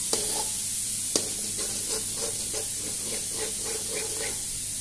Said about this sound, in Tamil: கொஞ்சம் முட்டையை வறுத்துக்கலாம்.